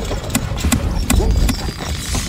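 Horse hooves clip-clopping in the medieval strategy game Stronghold Crusader, a quick run of sharp hoof strikes over soft game ambience.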